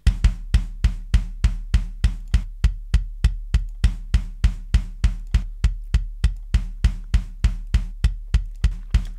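A drum kit with kick, overhead and room tracks plays a fast, steady run of evenly spaced hits, about three per second, full and roomy with ringing cymbal wash, loud and without any voices.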